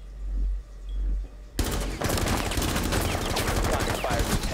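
Rapid automatic gunfire in a tactical shooter video game erupts after a quiet stretch, then rattles on as a dense, sustained burst of close shots.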